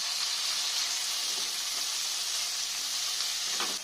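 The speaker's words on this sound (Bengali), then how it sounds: "আবার একটু নেড়ে নিলাম" Tomato and red chilli powder fry in a pan while being stirred for an eggplant-in-yogurt curry, giving a steady close sizzle and hiss with a few faint scrapes, no voices.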